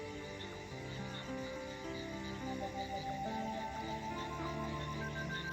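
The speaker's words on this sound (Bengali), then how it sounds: "চারিদিকে পুরো অন্ধকার, আর ঝিঝি পোকার ডাক শোনা যাচ্ছে।" Crickets chirp steadily in dark village countryside at night, a dense, continuous insect drone that stays moderately faint with no voices.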